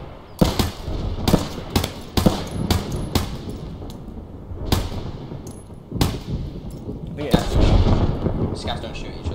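Sharp gunshots ring out in a firefight in the game Escape From Tarkov, set in woods, with a dozen loud cracks and short bursts at uneven intervals while players talk over them.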